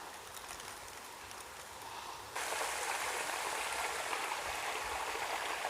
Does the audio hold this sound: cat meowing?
no